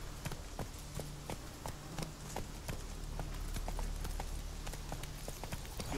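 Roach the horse gallops in The Witcher 3, a steady run of hoofbeats pounding close and clear across the whole stretch, with no talk over it.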